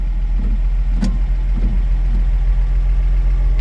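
Original six-cylinder engine of a 1964 Ford F100 idles steadily and close, a low even rumble with a faint click or two over it.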